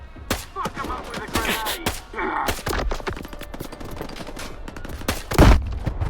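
Grenade blast and bursts of gunfire in STALKER 2, with rapid repeated shots rattling throughout and a heavy, booming explosion near the end, loud and close.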